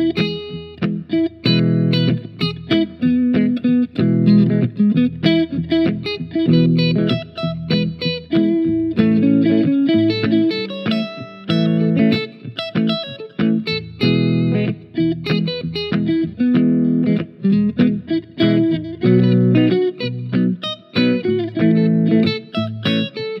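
An electric guitar with a distorted, effects-laden tone picks out chord-tone arpeggios, the individual notes ringing in a steady, rhythmic pattern with brief gaps between phrases and no talking.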